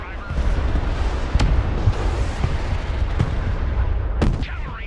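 In the video game Broken Arrow, artillery and gunfire produce a dense, constant rumble of blasts. Three sharp cracks stand out above the loud, continuous barrage.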